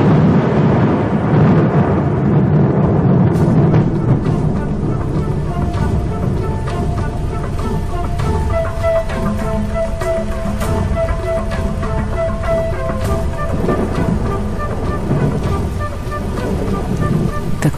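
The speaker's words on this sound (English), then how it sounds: "As the last embers burn to dust, the promised rain arrives at last." Heavy rain pours down on an African plain with a rumble of thunder, a dense broadband wash that opens loud and continues steadily, with faint scattered taps throughout.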